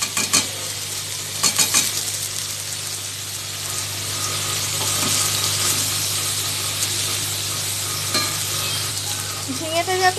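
Ridge gourd goes into a pan of frying prawns and hisses in a loud, continuous sizzle, with scraping stirs clustered near the start and occasional clinks later on.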